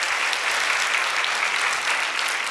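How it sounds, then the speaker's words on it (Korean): Church congregation clapping together during a multigenerational Sunday worship service, a dense, steady burst of applause filling the room, loud and continuous with no speech over it. "우리 뜨겁게 모두를 위해서 박수 한번 쳐드리겠습니다."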